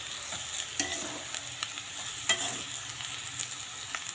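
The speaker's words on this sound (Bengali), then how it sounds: "এই যে কাঁচা লঙ্কা দিয়ে ভাজা।" Green chillies fry in a pan with a soft, close sizzle, broken by sharp scrapes and taps as a spatula stirs them every second or so.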